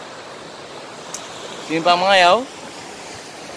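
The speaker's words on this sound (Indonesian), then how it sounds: "Inilah dia deruan ombak" Steady surf washes onto the beach at Simpang Mengayau in Kudat, Sabah, a constant wash of breaking waves running through the whole stretch while someone talks briefly over it.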